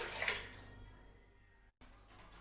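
Almond milk and poppy seed milk are poured together in a kitchen, making a soft splashing liquid stream that fades over a couple of seconds, close and fairly quiet.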